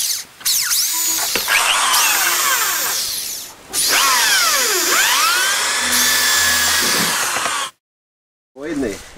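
A power drill whines loudly and steadily while drilling into a motorhome's outside wall, with pitch sweeping up and down as it bites in, pausing briefly twice before starting again.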